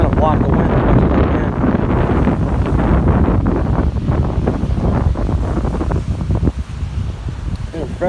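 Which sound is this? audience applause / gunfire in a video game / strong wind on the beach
strong wind on the beach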